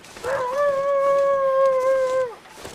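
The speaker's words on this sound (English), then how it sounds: "There is a wolf out here somewhere" A wolf in the survival video game The Long Dark lets out one long, loud, sustained howl. It rises, holds steady and then falls away, alone against a quiet wind-like background.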